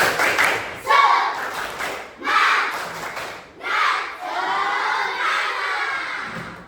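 A class of fourth-grade pupils does the rhythmic 'tepuk semangat' clapping cheer, with bursts of unison claps and shouted chant in repeated phrases, loud and close in a classroom.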